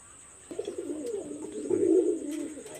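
Khulna high-flyer pigeons cooing close by, a soft low rolling coo that swells and fades over a couple of seconds against a quiet background.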